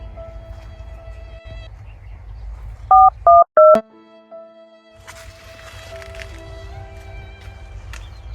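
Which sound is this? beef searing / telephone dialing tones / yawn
telephone dialing tones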